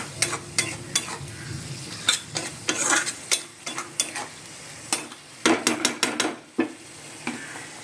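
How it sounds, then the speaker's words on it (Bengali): Yogurt stirred in a pan with a utensil, a run of close, irregular scraping and clinking strokes against the metal over a soft sizzle, no talk. "দইটা দিলাম, দিয়ে এবার ভালো করে আবারও আমি নাড়বো দইটাকে।"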